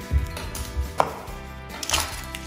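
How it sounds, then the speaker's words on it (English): A knife chops onions on a cutting board for soup, making a few close, sharp thuds spaced unevenly over a couple of seconds. "If you want to do a rough chop, then you can do a rough chop."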